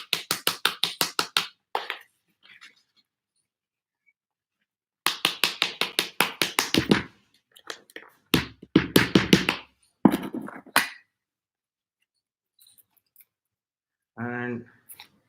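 A butter knife scrapes and taps around the inside of a plastic plant pot to loosen the plant, making rapid bursts of clicking, scratching strokes close to the listener, with brief pauses between them.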